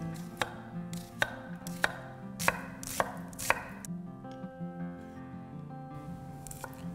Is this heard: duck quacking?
no